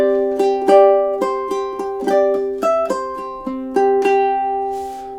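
Close, bright ukulele strumming carries the chorus of a song, measures 9 and 10, in evenly spaced chord strokes with sustained ringing notes and no voice.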